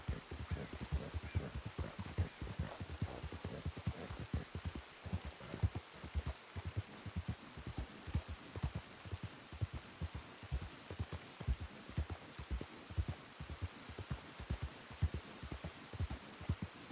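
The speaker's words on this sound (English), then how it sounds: "I love the Rain, guys. Rain is paid actor." Steady rain falling in the video game WildRP, a dense continuous patter with soft repeated thumps running through the whole stretch, quiet and with no voices over it.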